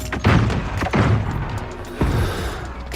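A flashbang grenade detonates in a fast-paced shooter video game, producing a series of loud booming thuds, with three heavy bursts spaced across a few seconds over a dense, noisy in-game background.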